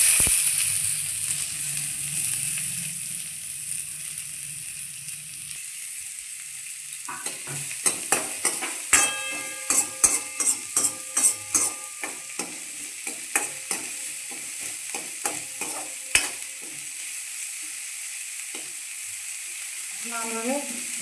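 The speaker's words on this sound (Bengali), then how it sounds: "এখন আমি ভেজে নেব পেঁয়াজ।" Onions frying in hot oil in a pan, a steady sizzle that starts faint and grows louder, with a run of sharp scraping and stirring taps partway through, and no talking.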